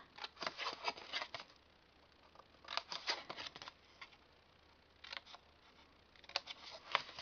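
Scissors snip through card while a box lid is cut out, giving quiet, crisp bursts of rapid clipping in short runs separated by pauses.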